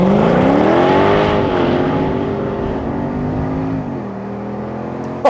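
A Mercedes SLK55 AMG pulls away hard from a standstill, its engine note climbing loud and close through rising revs, then easing as it shifts to a lower drone.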